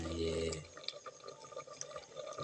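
Water running and splashing into a flooded paddy field ready for rice planting, a steady close trickle with small drips, following a brief low rumble at the start.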